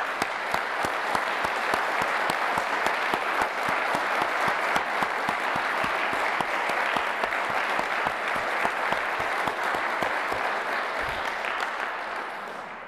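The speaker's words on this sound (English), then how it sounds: "let's give him a round of applause" An audience applauds a guest asked to stand during a formal speech by the U.S. Secretary of State, sustained dense clapping that holds steady for many seconds before easing slightly.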